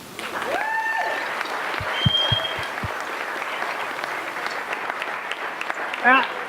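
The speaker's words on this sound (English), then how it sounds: "let's give them an applause" Applause from a wedding reception crowd during toasts rises and holds steady, with a few sharp thumps and brief whistles near the start and scattered voices underneath.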